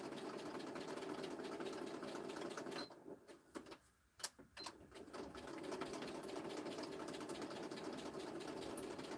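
Sewing machine stitching at a craft table, a fast steady mechanical whir that pauses briefly in the middle with a few clicks before running on again, faint and close.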